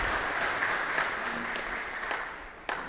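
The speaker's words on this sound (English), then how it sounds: "Another round of applause," Sustained audience applause after a presentation, a fairly quiet, even patter of many hands that slowly tapers off, ending with one sharper clap close by.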